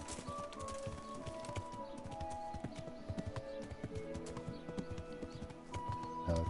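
Horse hooves clip-clop steadily at a gallop in Kingdom Come: Deliverance, a dense rhythmic patter of hoofbeats with a brief whinny-like tone, moderately close and continuous without talk.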